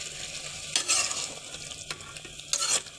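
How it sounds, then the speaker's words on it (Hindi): Potatoes, peas and cauliflower being stirred together in a frying pan, with two clear bursts of spoon scraping over a steady low sizzle of frying. "अब हम इन तीनों चीज़ों को अच्छी तरीके से इसमें मिक्स कर देंगे।"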